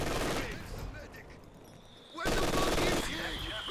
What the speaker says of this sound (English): Machine gun could have got the wipe there.